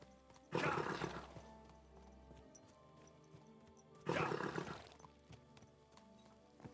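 Horse in the video game Kingdom Come: Deliverance II giving two loud whinnying bursts a few seconds apart, close and prominent over a quiet hum with occasional soft clicks.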